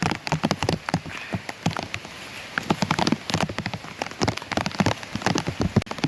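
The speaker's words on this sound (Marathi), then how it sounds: "पूर्ण काळोख केला ना पूर्ण पावसानं" Heavy rain pours over farmland, a dense, steady drumming broken by loud close splashing drops throughout, with no voices.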